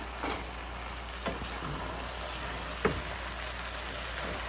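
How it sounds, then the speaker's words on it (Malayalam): Avial cooking on a low flame in a pan gives off a steady, soft sizzle, broken by a few isolated spatula scrapes as it is stirred. "നമ്മളിനി ഒന്ന് ഇളക്കി വയ്ക്കുവാണ്"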